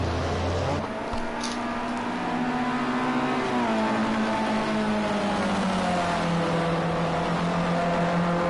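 Formula C race cars in Project Cars 2 braking late into the Hockenheim hairpin, a loud, continuous engine note that drops steadily in pitch as the cars slow.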